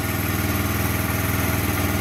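Lexmoto Street 125 (DFE125-8A) motorcycle engine running, a steady close idle with an even low throbbing pulse and no change in pitch.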